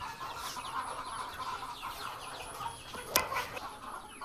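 Chickens in a poultry shed cluck and mutter steadily across the whole stretch, with one sharper squawk near the end against a busy background of birds.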